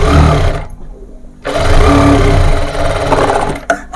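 A sewing machine stitches the ruffle on a baby frock: loud, close mechanical whirring in bursts, with a short pause before running again.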